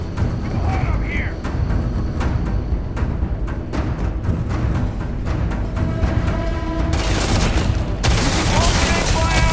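Sustained gunfire in the sci-fi game Starfield, a dense fusillade of rapid shots and machine-gun bursts that runs throughout, loud and close, with voices talking over the combat.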